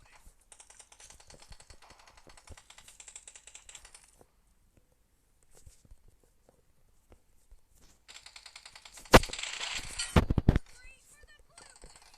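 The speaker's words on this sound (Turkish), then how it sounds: "Çünkü o silah tek atıyor." Single-shot gun firing in a video game, a couple of sharp loud shots near the end over a steady patter of keyboard and mouse clicks, with no talking.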